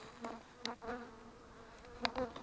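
Honey bees buzzing around hives kept by a beginner beekeeper in spring, with soft droning hums and several louder passes as bees fly close to the microphone, no talk.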